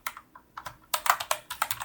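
Close, crisp keystrokes on a computer keyboard while entering a directory name at a terminal, tapped in uneven bursts that quicken into a denser run of clicks in the second half.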